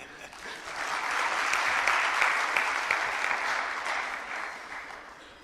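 Audience at a speech on employers and skilling bursting into applause, a broad wash of many hands that swells, holds steadily and slowly tapers off, somewhat distant and soft.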